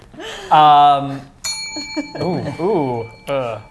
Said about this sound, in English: That's the only bell today.